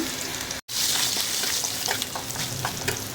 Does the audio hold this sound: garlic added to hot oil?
yes